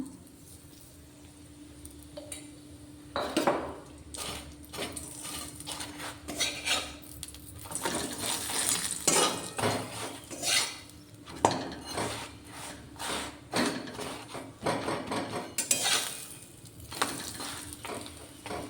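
A sattu-stuffed paratha fries in oil in a pan while a metal spatula scrapes and taps against it, with a steady sizzle and repeated close clattering strokes.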